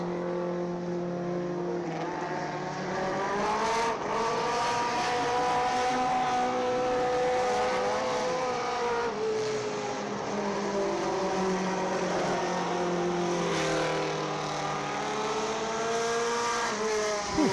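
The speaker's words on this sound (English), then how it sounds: "That was heat race number 1 for your quality pre-owned Superstock 4s" Superstock 4 race cars in a heat race at County Line Raceway roar continuously at close range, several engines droning and rising and falling in pitch together as the pack laps without a break, loud and steady throughout.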